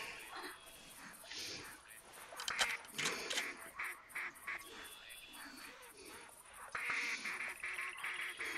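A flock of mallard ducks quacking in theHunter Classic, with repeated quacks and honks, some close and some farther off, mixed with quiet talking and whispering.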